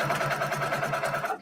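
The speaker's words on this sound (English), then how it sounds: "I'm stitching on the Brother PQ 1500. It's a straight stitch machine." Brother PQ 1500 straight-stitch sewing machine stitching through a quilt, a fast rhythmic mechanical whir with evenly pulsing stitches, close and moderately quiet, running steadily before cutting off abruptly at the end.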